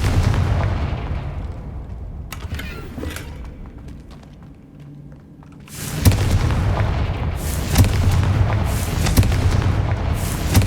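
A Confringo blasting spell explodes in Hogwarts Legacy, a loud booming blast followed by a sustained rumbling roar with crackling bursts, no speech over it.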